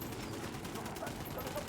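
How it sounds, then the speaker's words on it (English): Dense, steady gunfire from the video game Ghost Recon rattles on at low volume as a continuous, distant-sounding fusillade with no clear pauses. "Opening fire."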